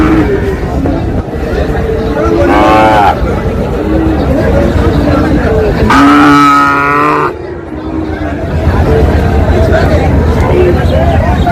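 Sahiwal bull calves at a cattle market, with two loud, drawn-out moos standing out around the second and sixth seconds over constant crowd chatter and market hubbub.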